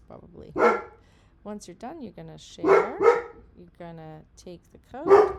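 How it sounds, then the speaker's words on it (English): A pet dog indoors, alert to raccoons outside, lets out several sharp barks in bursts while a person keeps talking over them. "In this case, sorry, that's my dog."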